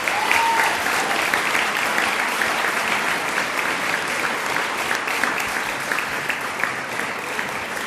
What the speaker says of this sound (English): Please give them a round of applause once more.